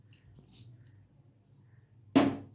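A tumbler of water is poured into a chili-powder kulambu in a cooking pot, a short loud splash arriving suddenly after a quiet stretch.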